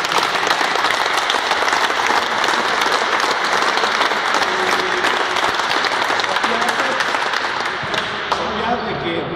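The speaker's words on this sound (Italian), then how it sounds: "e quindi un applauso per Arrigo." An audience claps hard and without a break during a tribute speech at an Italian gathering. The dense, loud applause fills the whole stretch and fades slightly at the very end.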